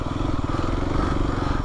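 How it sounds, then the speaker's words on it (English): Motorcycle pushed up a hill, its engine running as a steady, close, low rumble with faint clatter and no pauses. "and pushing a motorcycle."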